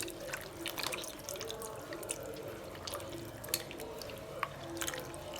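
Tamarind is squeezed and dissolved by hand in a bowl of water for coconut milk rasam, giving soft, irregular sloshing and dripping splashes throughout.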